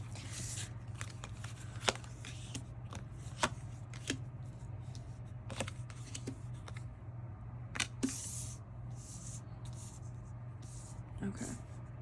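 Tarot cards are pulled and shuffled in a series of soft, papery flicks and light taps at irregular intervals over a steady low hum, with no talking.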